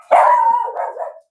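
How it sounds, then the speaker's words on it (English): A dog barks once, a single loud close yelp that stretches into a short wavering howl, alone with no talking. "I'm sorry, that's my dog"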